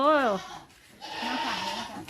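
Goats bleat at a goat farm in Na Kae, Nakhon Phanom, Thailand: a loud close bleat, then wavering calls under voices of people talking nearby.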